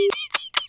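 A phone's dialing tones ring out in a short burst, a steady held tone followed by two quick electronic beeps, clear and close with no voices.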